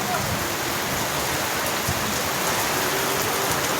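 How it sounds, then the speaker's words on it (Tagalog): Rain beats down hard at the Gapan public market in Nueva Ecija, an even, unbroken rushing hiss filling the scene, with no clear voices above it. "Lumakas po yung ulan dito sa Gapan"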